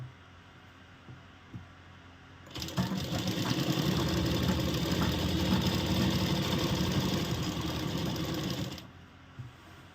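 An electric sewing machine stitching the shoulder seams of a kurti in one steady, loud, whirring run of about six seconds, close by, set between quieter stretches of room sound.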